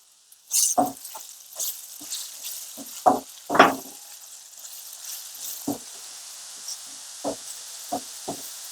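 Chopped tomato stirred into a squid filling in a pan, with scattered spoon knocks and clinks against the metal over a faint steady sizzle.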